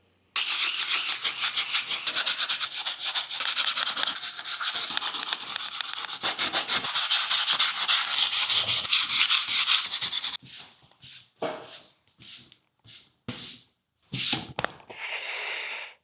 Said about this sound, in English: I'm going to sand it down as much as I can, just hand sanding